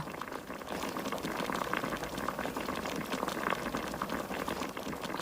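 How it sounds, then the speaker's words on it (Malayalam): A tablespoon of tea powder boils in a pan of water for masala chai, a steady, fizzing bubble and crackle that continues evenly throughout at a soft, close level, with no voices. "ഒരു ടേബിൾ സ്പൂൺ ടീ പൗഡർ ഇട്ടു അഞ്ചു മിനിറ്റ് തിളപ്പിക്കുക"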